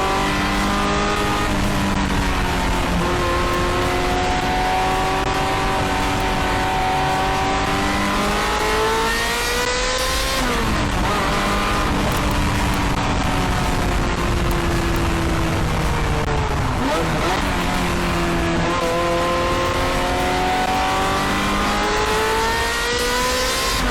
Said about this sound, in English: driving an open-gated F355 with that fantastic F1 sound